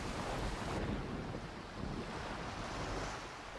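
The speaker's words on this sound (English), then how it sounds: "the earth was completely filled with water. Then Nuh alayhi salam said, "Bismillah." When the Prophet uttered these words, the ship started moving" Ocean waves surge and wash steadily around a sailing ship moving across vast flood waters, with a broad, rushing roar and gusting wind noise that stays loud and continuous throughout.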